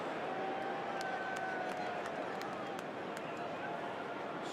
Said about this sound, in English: Have a listen to the hum of the crowd.